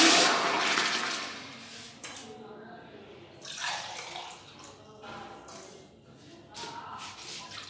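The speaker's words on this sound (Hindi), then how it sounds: "ये 3 कप पानी डाल दिए फिर हमने।" Three cups of water pour into a large cooking pot for making a rice dish, a loud gushing splash that fades into softer trickling and sloshing bursts, with no talk.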